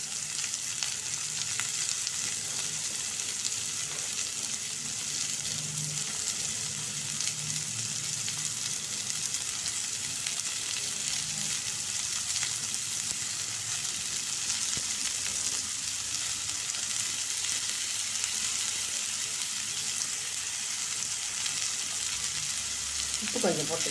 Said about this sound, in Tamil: பொடியாக நறுக்கின புடலங்காயை அதில் அப்படியே எண்ணெயிலே போட்டுடலாம்.